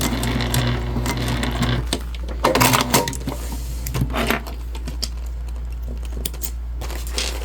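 A sewing machine back stitching on a clutch bag, running in short uneven bursts with a steady low hum underneath and clicky mechanical taps, fairly close.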